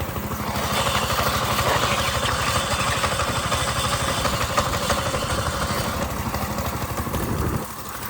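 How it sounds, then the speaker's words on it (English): A small engine of a 1968 Ford Mustang idles steadily, a close, rattling, even chug that holds for several seconds, then drops slightly in level near the end. "All right, we are just idling. I'm not even hitting the gas."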